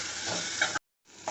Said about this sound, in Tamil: நல்லா உருளைக்கிழங்கு நல்லா வதங்கிடுச்சு.